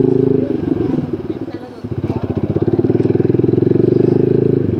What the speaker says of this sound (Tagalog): Yan, nakakalusot naman ng mga motor.